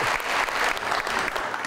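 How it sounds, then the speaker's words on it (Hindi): Studio audience applause on a television talk show, a dense, continuous wash of many hands clapping at a fairly close, steady level for a short stretch. "थैंक यू, बहुत सही तालियां।"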